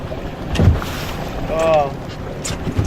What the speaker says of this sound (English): this wind we don't want to keep fighting and get soaked